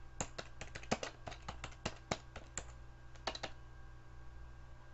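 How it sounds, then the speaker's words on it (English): Typing on a computer keyboard during fitness-coaching business data entry, a quick run of crisp, irregular clicks that pauses and then resumes in a short burst, heard close over a steady low hum with no talking. "My typing is horrible."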